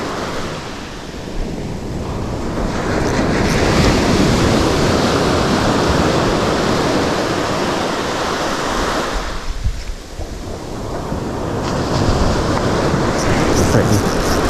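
Wind and surf roll continuously onto a beach shore where anglers fish from the water's edge, a loud, dense roar that swells and briefly dips before surging again.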